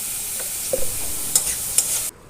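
Green mango stir-fried with salt and turmeric in a pan: a few scattered scraping strokes over a low, steady sizzle, close and fairly quiet, ending abruptly.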